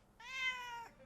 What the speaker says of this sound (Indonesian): Ini kucingnya ada nih.